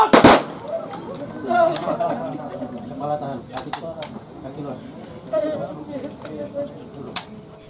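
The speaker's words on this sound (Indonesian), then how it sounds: "Tembakan salvo sebagai penghormatan terakhir bagi sang bayangkara muda terdengar" Gun salute salvo fired at a police officer's funeral in Merauke, Papua, a sharp loud volley burst at the start followed by a few fainter cracks under a speaking voice.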